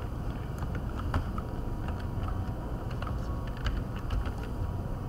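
Quiet, irregular clicking of computer keyboard keys as a command is typed into a Windows command prompt, light taps scattered over steady background hiss.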